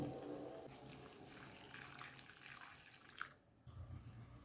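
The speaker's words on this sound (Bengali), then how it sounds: "এবার 2 কাপ পরিমাণ গরম জল এর মধ্যে দিয়ে দেব" About two cups of hot water are poured into a pan of parshe fish curry with spices; a steady splashing pour runs for a few seconds, then a sizzle and bubbling take over.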